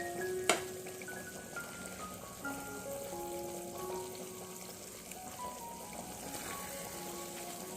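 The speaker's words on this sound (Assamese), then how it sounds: "মাজে মাজে এনেকৈ লাৰি থাকিব লাগিব, নহ'লে কেৰাহীত লাগি ধৰিব।" Ghee simmering and frying in a kadai while being stirred now and then, a steady soft sizzle and crackle with one sharp scrape or clink near the start, continuous and close, no talking.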